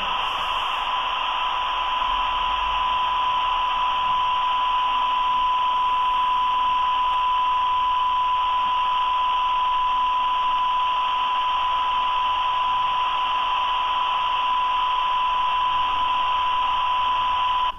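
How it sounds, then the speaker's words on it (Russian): A Yaesu FT-3DR handheld radio plays a steady test tone through its speaker, a single pure pitch held loud and unbroken over a bed of hiss for the whole stretch. "Я динамик тогда открываю. Ну, в смысле, громкость увеличиваю и начинаю увеличивать амплитуду сигнала."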